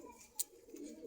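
A pigeon at a market in Rampura, Dhaka gives a soft, brief coo, faint and close, over a low background murmur, with a sharp little click near the start.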